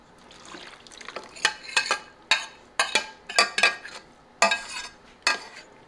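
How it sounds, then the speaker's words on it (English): A spoon stirs a soup mixture into potatoes in a pan, making irregular scraping knocks and clinks against the metal, about a dozen sharp strokes with wet, soft handling sounds between them. "We're going to mix it over in with the potatoes."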